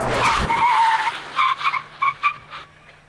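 A car brakes hard with ABS engaged during a safety test, tires skidding in a loud squeal that breaks into rapid pulsing chirps as the system modulates the brakes.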